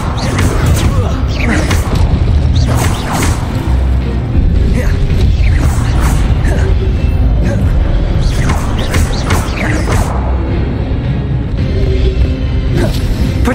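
Expelliarmus spell combat in Hogwarts Legacy fills the scene with loud booms, whooshes, thuds and crashing impacts in quick succession, with voices heard over the fighting.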